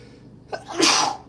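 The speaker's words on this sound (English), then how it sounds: "I'm about to sneeze." A single sneeze from a person, a short breathy intake followed by a sharp, noisy burst, close and clear.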